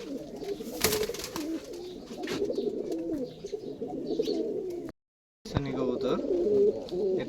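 Russian Giribaz pigeons, a male and female pair, coo in a steady run of low warbling calls, close and fairly loud, broken by a brief silence before the cooing resumes.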